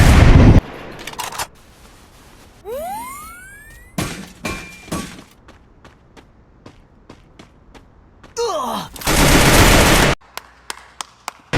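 Gunfire in a battle royale mobile game, with sharp loud bursts and single shots, whooshing and pitch-sweeping effects, and a sustained heavy burst near the end, then isolated cracks.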